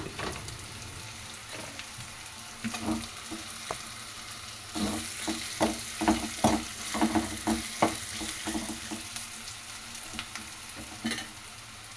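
Mango chitranna gojju fries in oil with a steady sizzle, stirred repeatedly so that scraping, clattering strokes come in a loose rhythm and grow busier midway, close and without talking.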